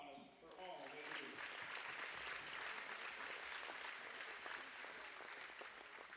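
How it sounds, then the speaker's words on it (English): Sustained applause from a high school gym crowd at a girls varsity basketball game, clapping loud and steady for the game officials throughout, with no talk over it. "Please join us in giving these officials a round of applause for all they do."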